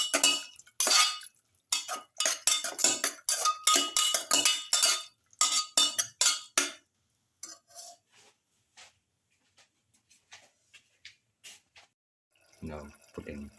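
A metal spoon scrapes and clinks against a bowl while lamb with pepper, garlic and cauliflower rice is mixed, in repeated rapid bursts for about seven seconds, followed by sparse, fainter taps and a short low rumble at the end.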